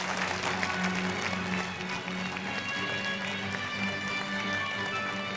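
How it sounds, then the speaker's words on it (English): A conference audience applauds Chairman Lee at a global peace leaders' gathering, steady dense clapping filling the hall at moderate level with a low background hum throughout. "Let us give another big round of applause to Chairman Lee for his inspiring congratulatory message"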